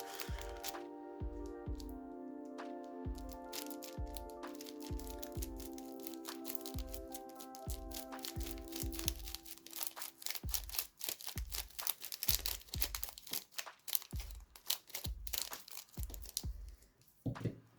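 MetaZoo trading card packs being cut open and torn, with a rapid series of close crinkling, tearing and crackling bursts that grow busier toward the end. Faint musical tones play underneath.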